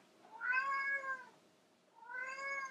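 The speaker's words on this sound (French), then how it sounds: "Voilà, mon chat qui râle." Indoors, a domestic cat meows twice in grumbling, drawn-out complaints, close and clear, with a short quiet pause between the two calls.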